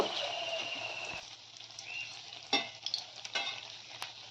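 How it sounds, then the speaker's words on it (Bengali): Batter-dipped snacks frying in hot oil, a steady close sizzle with a few sharper pops and clinks near the end. "প্রথমবারে দুটোই ভেজে নেব"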